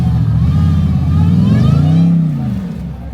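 A Ram TRX truck engine revs loudly nearby, its deep note rising and falling in pitch as the throttle swells then eases off, with people talking over it.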